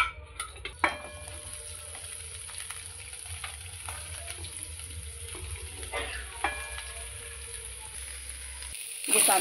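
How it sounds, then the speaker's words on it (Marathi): Onions roasting in a kadhai on a gas stove, a steady close sizzle and crackle with occasional clinks of stirring, running continuously before cutting off abruptly near the end. "आता मी हे कांदे कढईतच भाजून घेणार"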